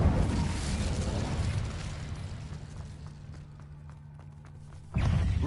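An Incendio fire spell in Hogwarts Legacy bursts with a loud roaring whoosh that slowly fades into a low crackling hum, then a second burst strikes abruptly near the end.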